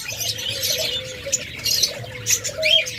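Caged pet birds for sale, such as cockatiels, budgerigars, lovebirds and ghughu doves, chirp and tweet in a lively overlapping chorus, with short bright calls repeating throughout and soft flutters beneath, fairly close and steady.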